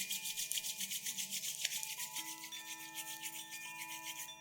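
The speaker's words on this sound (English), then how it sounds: "rubbing the hands together" Palms rub together steadily in a quiet yoga session, a soft continuous rasping swish with a gentle back-and-forth pulse, close and alone over faint bell-like tones.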